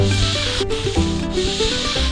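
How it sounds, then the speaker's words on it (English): A sanding sponge rubbed by hand along a rounded wooden table edge, giving quick, close, scratchy back-and-forth strokes in a steady rhythm, with no talk. "you might perfectly use the sponge. Just put it on a little bit of pressure and it adapts it perfectly to your rounding"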